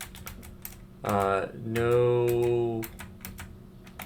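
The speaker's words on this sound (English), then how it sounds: "I'm gonna type in" Computer keyboard keys clicking in short bursts while a command is typed for configuring a Cisco router, with a sustained tonal, voice-like sound filling the middle stretch.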